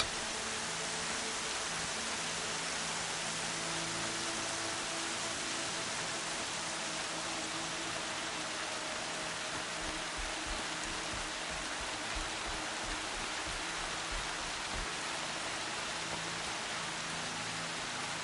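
Steady rain pours down in the video game Horizon Zero Dawn, a dense, even hiss of falling water at constant loudness, with a faint low rumble underneath and no voices.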